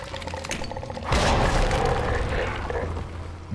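A grenade detonates in Resident Evil 2 Remake, a sudden close boom with a shattering, rumbling tail that slowly fades over game ambience.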